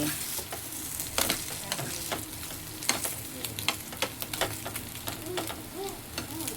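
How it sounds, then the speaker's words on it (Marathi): Steady close sizzling of fish frying in a pan, with scattered sharp crackles and pops throughout. "आणि आता ही फिश फ्राय करते"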